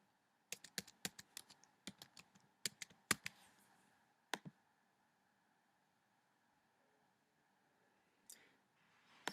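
Quick bursts of clicking keystrokes on a computer keyboard while an email address and password are entered, close and crisp, followed by quiet and a few final taps.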